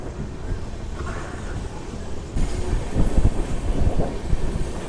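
A passenger train pulls out of Bobbili Junction with a rumbling, rattling roll that grows louder partway through. Wind buffets the microphone and soft clicks of the wheels come through.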